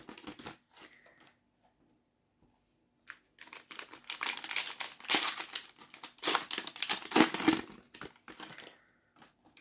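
Packs of Top Class 2024 football trading cards are torn open, bursts of crinkling foil and ripping wrapper close up, separated by brief quiet pauses.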